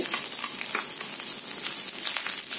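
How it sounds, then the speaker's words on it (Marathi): Ginger, garlic and whole garam masala spices sizzle and fry in a hot pan, a steady dense crackle with faint stirring scrapes, close and continuous with no voices. "ह्याच्यामध्ये आहे ना बाकीचे मसाले भाजून घेते"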